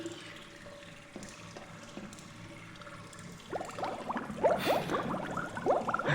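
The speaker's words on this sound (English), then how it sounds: "I hear the rushing water" Rushing water in the video game Portal: a quiet, steady wash that swells into louder splashing and gurgling toward the end, heard alone without voices.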